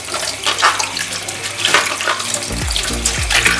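Running water splashes steadily from a tap as a washed item is rinsed with a sponge, with a handling thud and wet rubbing sounds toward the end.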